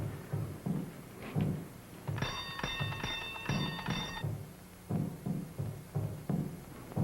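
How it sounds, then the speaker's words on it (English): A door bell rung repeatedly in a rapid metallic ringing burst lasting about two seconds, heard indoors amid footsteps and movement in a 1941 horror mystery film scene. "You ring the bell."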